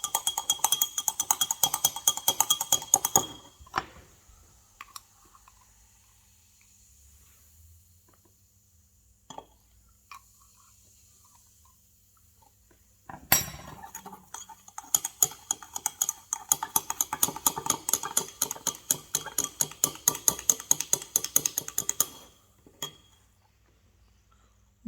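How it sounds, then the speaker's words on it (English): A small spatula stirs a mixture during a GCSE chemistry salt-making practical, giving rapid metallic clinks and scrapes against glassware in two busy bursts separated by a quiet stretch with a few isolated taps. "I'm going to use a smaller spatula just to stir it"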